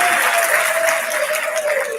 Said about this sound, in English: Please give all the auxiliaries a round of applause